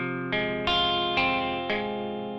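Electric guitar with effects picking the bridge chords of a song, four strummed chords in steady succession, each ringing with a shimmering chorus-like tone, played alone and fairly close.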